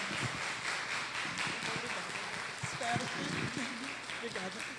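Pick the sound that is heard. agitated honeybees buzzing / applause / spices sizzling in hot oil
applause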